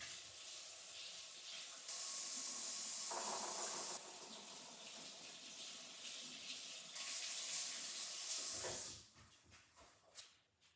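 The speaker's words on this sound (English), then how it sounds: "I'm going to go clean my brush with soap and water." A sink tap runs while a paint brush is washed with soap, steady hissing water flow with two louder bursts of spray, then the water shuts off and a few faint clinks follow.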